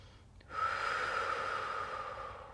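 A single long, deep exhale during prenatal yoga, a soft airy breath that swells quickly and then slowly fades, close and quiet.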